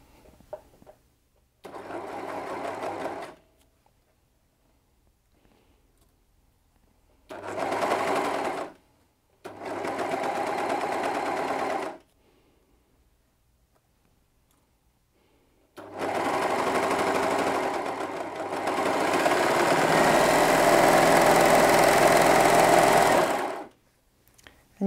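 A Brother 2104D overlocker sews piping between two layers of fabric, running in several loud close bursts separated by silence and ending in a long continuous run.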